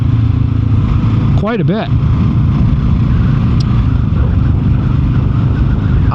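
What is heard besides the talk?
2024 Kawasaki KLR 650 motorcycle riding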